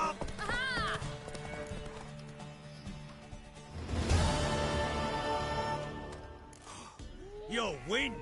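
Hoofbeats of a galloping horse in The Witcher 3: Wild Hunt, with whinnies at the start and the close and a louder burst of in-game action sound midway.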